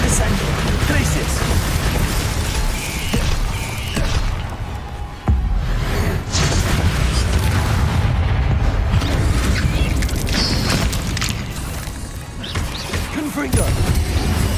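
Confringo spell explosions during a boss fight in Hogwarts Legacy, a dense, loud stream of blasts, whooshes and crashing impacts with a sharp hit near the middle, mixed with speech throughout.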